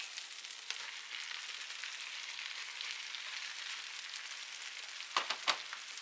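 Steady sizzling from onions and celery frying in a pan as cabbage is tipped in, a soft continuous crackle with a couple of sharper rustling hits near the end and no speech.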